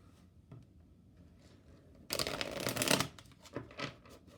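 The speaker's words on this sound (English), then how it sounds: "One more shuffle." Tarot cards riffle-shuffled in a sharp, papery burst, followed by a few softer taps and flicks as the deck settles.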